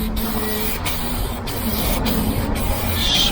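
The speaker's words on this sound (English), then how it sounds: "Spray liberally." Aerosol paint sprayed in repeated bursts over welded, spot-welded and prepped panels of a Mk3 Ford Cortina under restoration, a steady close hiss broken by brief pauses as the can is moved along.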